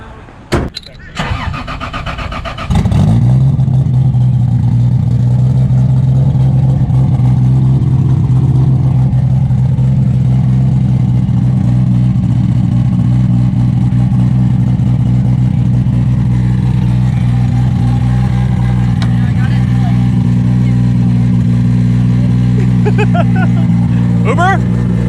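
A Lexus IS300 tuned to about 700 horsepower cranks and fires up, then settles into a loud, rough, steady idle that holds throughout with slight revving, heard up close.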